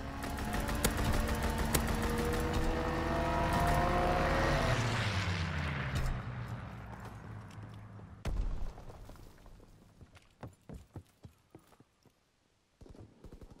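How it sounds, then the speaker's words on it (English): Wartime fighter plane in Call of Duty WWII sweeps low in a strafing run over the Carentan map, a loud rising propeller roar that swells and fades, followed by scattered sharp gunshots and thuds. "Fighter pilot inbound, strafing the target."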